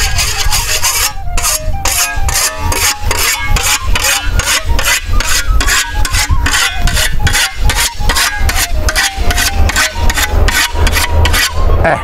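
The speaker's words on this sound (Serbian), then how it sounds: "Tim brusom se oštri kosa." A whetstone rasps rhythmically along a scythe blade, with quick, regular back-and-forth strokes that are loud, close and steady throughout, and no talk over them.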